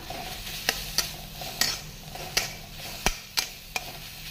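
Pointed gourd peel paste fries over a low flame, a steady low sizzle punctuated by regular scraping taps of a spatula against the pan, about one stroke every half second.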